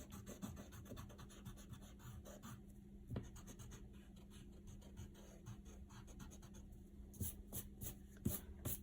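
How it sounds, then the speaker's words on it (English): A pencil guideline being erased on paper, soft close rubbing and scratching strokes in uneven bursts, quiet throughout with sharper brushing near the end. "And now I can go back and erase that original guideline."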